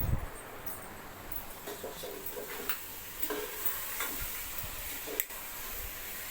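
A spoon stirs masala frying in a pan for a sardine fish curry as chili powder is added. Soft, irregular scraping taps sound over a quiet, steady sizzle, close by and with no talking.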